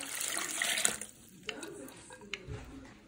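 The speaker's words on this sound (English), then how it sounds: "so we will add water in here" Water poured into a cooking pot of dal while making chicken shami kabob, a brief splashing rush at the start that fades into faint kitchen clatter.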